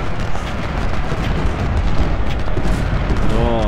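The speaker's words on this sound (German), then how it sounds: "So, mit den vereinten Kanonen." Massed cannons firing together in the Civil War strategy game Ultimate General, a continuous heavy rumble of booming artillery blasts that rolls on for several seconds, with a faint voice briefly audible underneath.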